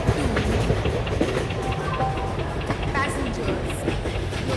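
Goods express train pulling into a station platform in an Indian train game, a continuous loud rumble with rail clatter throughout and no pause.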